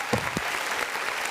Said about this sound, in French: Oh, Applaudissez.